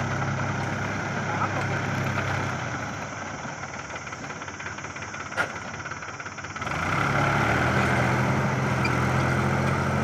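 Mahindra tractor engine idling and knocking at a farm field, a steady low rumble that dips quieter midway then swells louder again, with faint voices at times.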